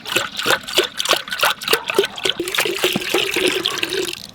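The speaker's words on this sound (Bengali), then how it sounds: "2 লিটার দুধ দিলাম আর 2 লিটার জল দেবো।" Milk is poured into a cooking pot for chusi pitha in a village kitchen, a close gurgling stream with glugging pulses that runs steadily for several seconds.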